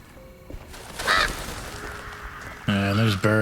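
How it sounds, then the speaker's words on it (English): Birds honk in the video game Alone in the Dark, goose-like calls over a quiet ambient background, with a louder, closer burst of honking toward the end. "There's birds."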